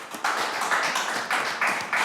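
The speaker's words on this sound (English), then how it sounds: "Let's give them a round of applause." A television quiz-show studio audience applauds briefly for prize sponsors, with a dense, steady wash of clapping that swells in a few bursts over two seconds.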